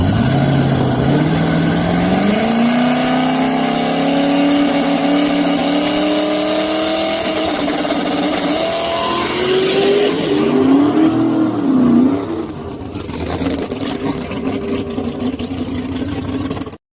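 A drag race car makes its first pass at Immokalee, a loud sustained engine roar climbing through rising gear pitches for about twelve seconds before cutting off, with further engine noise continuing behind it.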